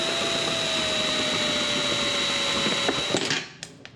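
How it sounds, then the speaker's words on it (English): A 5/8 hole saw fitted with an old wheel stud as a pilot drills through metal on an Arctic Cat 300 4x4 ATV, a steady loud grinding whine that holds evenly and then stops abruptly near the end. "I'm going to take a 5/8 hole saw, stick an old wheel stud in the end, and let's get this in there."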